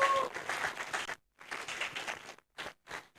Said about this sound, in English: Please, one more round of applause to him.